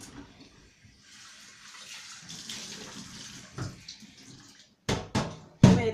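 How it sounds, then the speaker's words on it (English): A pan rinsed under running tap water, a steady mid-volume wash of flowing water with a few louder splashes and knocks near the end. "First thing, we're gonna wash our pan."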